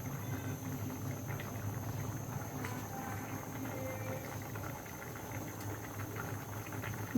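Potato-tomato curry broth at a steady rolling boil in a pot, a continuous low bubbling rumble with faint pops, close and unbroken, with no talking.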